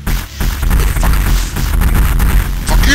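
Missile explosions in the video game Metroid Fusion, a loud continuous run of booming blasts and bursts packed closely together, with no talking.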